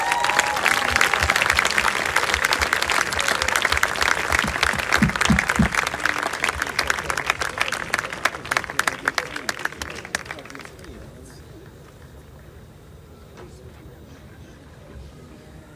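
Loud applause from a large audience at a live concert, dense clapping that holds steady for about ten seconds, then thins out and fades to quiet room noise.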